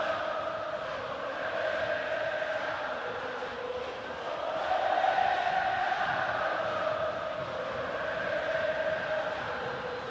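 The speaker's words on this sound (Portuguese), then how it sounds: "Torcida do Atlético dá uma força." Atlético supporters at the Mineirão stadium produce a broad, distant crowd roar and chant that swells and sustains steadily throughout.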